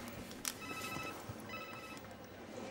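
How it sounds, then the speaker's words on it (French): A mobile phone rings indoors in a French TV series scene, a faint repeating electronic ringtone with steady tonal beeps in two bursts over a low background of room noise. "Oh, c'est mon portable."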